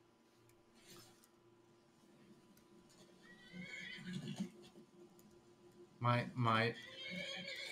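A horse whinnies loudly near the end in the video game Skyrim, preceded by quieter rustling and a softer horse sound; someone speaks briefly under it.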